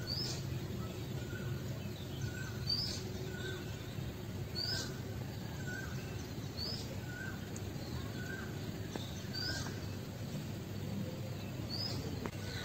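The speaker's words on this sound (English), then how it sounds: "I heard cuckoo and then I came to terrace" A cuckoo calls repeatedly on a summer morning in India, heard from an open terrace as faint, evenly spaced two-note calls over a steady low background hum with no talking.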